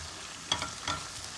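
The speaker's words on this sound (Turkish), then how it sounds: "biber salçamda iyice karışana kadar ve kokusu çıkana kadar kavuruyorum" Pepper paste frying and being stirred in a pan, two quick scraping strokes over a faint continuous sizzle, close and quiet with no voices.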